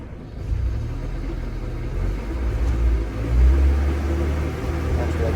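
Honda Civic engine revving as the throttle is opened, a loud steady low rumble that swells and surges partway through, close to the microphone and heard alone without talk.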